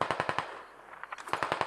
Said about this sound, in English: It's so cool when you shoot someone. It's like a fucking movie.